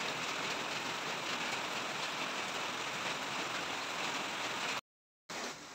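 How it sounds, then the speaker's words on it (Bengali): Overnight rain comes down steadily in a continuous, even hiss with no voices. The wash stays at a constant level and cuts out briefly near the end before resuming. "বৃষ্টি হচ্ছে, মানে সারা রাত ধরেই বৃষ্টি হচ্ছে হবে।"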